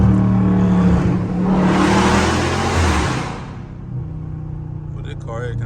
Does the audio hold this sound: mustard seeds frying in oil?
no